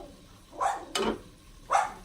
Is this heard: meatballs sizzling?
no